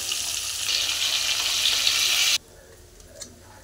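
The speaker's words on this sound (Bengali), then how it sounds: "বাকি যেগুলো মাছ আছে সেগুলোকে একইভাবে ভেজে নেব" Fish frying in a pan: a bright, steady sizzle close by that swells slightly, then cuts off abruptly partway through, leaving a quiet room with a couple of faint clinks.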